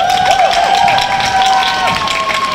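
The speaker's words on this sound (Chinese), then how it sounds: "那我们鼓掌欢迎" Crowd applause fills a Taiwanese evening rally marking the tenth anniversary of the Sunflower Movement, with dense steady clapping, cheering and sliding whistle-like tones across the whole stretch.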